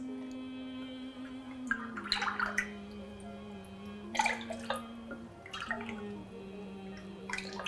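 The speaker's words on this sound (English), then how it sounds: "To that, I'm going to add in some coconut and rice milk" Coconut and rice milk being poured into a pot, a soft liquid trickle and splash in several uneven bursts over a steady low hum, fairly close and quiet.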